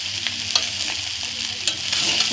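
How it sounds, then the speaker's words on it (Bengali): Rice with soaked cashews and raisins is stirred in a frying pan, making a steady sizzle with soft scraping strokes of the spoon, close and continuous. "এবার নাড়াচাড়া করতে হবে"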